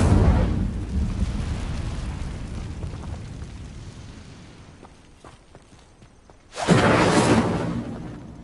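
Fiery whooshing bursts from the Incendio spell in the wizarding game Hogwarts Legacy: a roaring blast of flame that slowly fades, a quiet lull with small crackles, then a second loud fiery rush.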